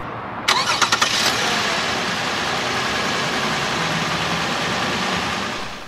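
A 3.5-liter V6 engine in a 2013 Lexus ES 350 cranks briefly and catches, then settles into a steady, even idle that hums on without change.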